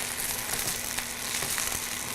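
Broccolini frying in a pan, a dense, steady hiss of sizzling with small crackles and pops, close and fairly quiet, no voices.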